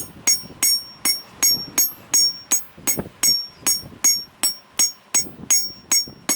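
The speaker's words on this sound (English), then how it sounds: "you can just use a regular hammer" A steady run of sharp metallic hammer blows forging knife steel, evenly spaced about three per second, ringing close and loud with no talking.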